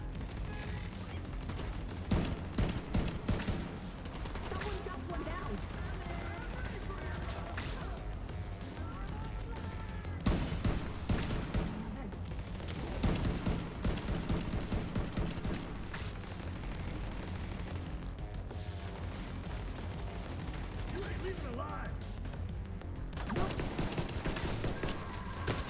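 Automated turret fire from a deployed turret in The Division 2, sustained bursts of gunfire running steadily throughout amid a dense firefight, with a voice talking over it.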